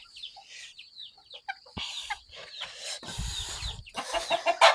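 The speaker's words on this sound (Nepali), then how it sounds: "यो चाहिँ बौलाउँछ हाम्रो ज्यापनिज हो।" A Japanese chicken gives a series of nearby squawking, clucking calls, with short bursts rising in intensity toward the end and brief pauses between.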